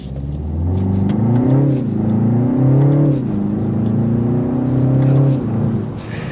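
A 2024 BMW 330i sedan with M Sport Package accelerates from 0 to 60 mph, its engine note heard from inside as a loud, smooth rising rumble that climbs through gear changes.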